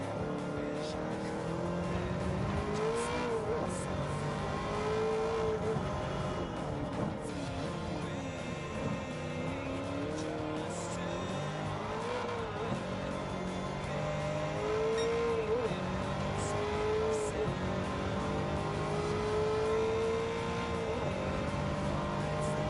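Race car engine in the Gran Turismo 7 video game, revving and shifting through gears with rising and falling pitch sweeps, a continuous loud drone with occasional tire squeal and a voice faintly beneath.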